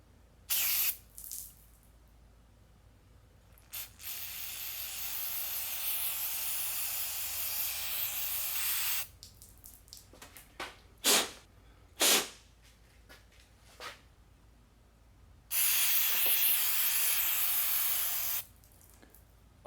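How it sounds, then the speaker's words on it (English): Brake cleaner sprays onto the mass airflow sensor of a Honda Civic in close, loud hissing bursts: a long continuous spray, several short quick squirts, then another sustained blast. "So we're gonna use some brake clean and clean off this mass airflow sensor."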